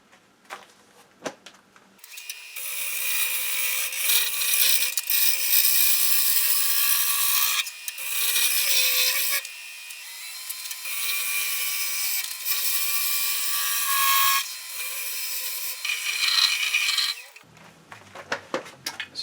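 A finer turning tool shaves a wooden spindle round on a lathe, a steady, bright scraping hiss that holds for about fifteen seconds with brief dips, close and alone.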